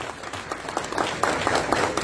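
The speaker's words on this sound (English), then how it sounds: "I mean a loud applause for all of us." Loud audience applause at a UPND party manifesto launch, dense clapping building and swelling over about two seconds with a few sharper bursts.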